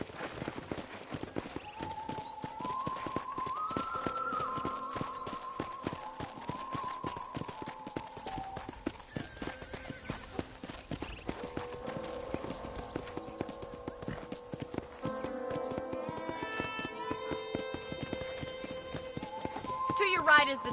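A horse's hooves clip-clop steadily on a ranch in the Red Dead Redemption video game, with a voice talking over the footsteps and background music.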